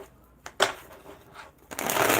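A deck of tarot cards is shuffled close by in a few quick riffling bursts, brief and soft at first, then a longer, louder riffle at the end.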